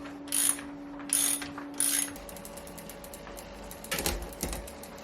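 Ratcheting clicks come from a tool tightening a bolt on a mountain bike's chain guide, with three short bursts, a steady faint tone, then a couple of louder clicks close by.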